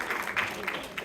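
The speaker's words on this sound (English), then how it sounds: "That deserves a round of applause." Audience clapping at a library candidate forum for sheriff and district attorney, a steady wash of many hands throughout, moderately loud with no clear break.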